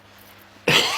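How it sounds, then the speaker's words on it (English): A single sharp cough bursts out near the end, loud and close after a quiet stretch of near silence, from someone with a slight cough. "I've got a little bit of, from the slopes, a little bit of a cough"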